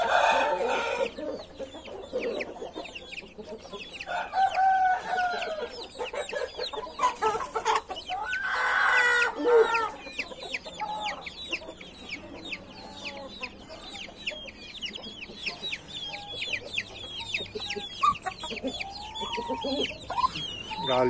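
A rooster and hens cluck busily at close range, with repeated clucks and short calls rising and falling over a steady background of softer chicken chatter.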